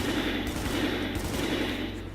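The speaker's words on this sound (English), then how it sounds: "It's a burst fire." In the video game The Division, a burst-fire assault rifle fires dense, rapid popping shots. The fire comes close and loud, in clustered bursts of about three rounds, and it fills the short clip.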